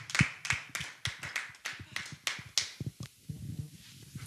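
A church congregation claps in a quick, uneven burst of sharp hand claps during a prayer service, loud and close at first, then thinning into scattered softer claps.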